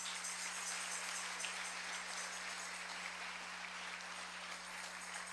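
A church congregation applauds in a steady, dense wash of clapping that holds at a constant level from start to finish, with a low electrical hum beneath.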